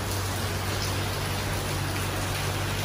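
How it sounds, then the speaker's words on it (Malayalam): Heavy rain pours in a dense, unbroken hiss, steady and loud throughout with no voices. "നല്ല മഴ."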